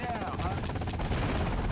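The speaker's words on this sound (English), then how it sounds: "Attack helicopter." An attack helicopter in GTA Vice City Stories gives off a steady, throbbing rotor chop with a dense engine rumble, heard at moderate level in the game.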